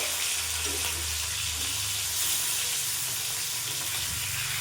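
Hilsa fish fries in a pan, giving off a dense, even sizzle that stays fairly steady, with a low rumbling hum underneath and no talking.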